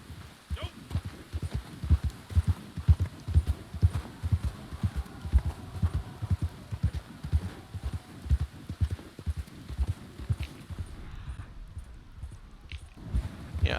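Video-game horse walking through snow, a steady run of soft, rhythmic hoof clip-clops, moderately close, continuing for most of the stretch before thinning out near the end.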